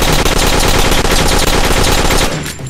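Rapid, loud automatic gunfire from the video game Dead Acres, a continuous dense burst of shots that cuts off abruptly near the end.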